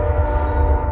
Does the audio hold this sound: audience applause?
no